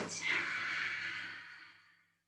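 A long, breathy exhale during a yoga forward fold, close and soft, one sustained airy breath fading out over about two seconds.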